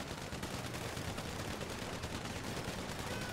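Rapid gunfire from a drive-by in the video game GTA 5 Online, a dense, steady rattle of shots continuing without a break.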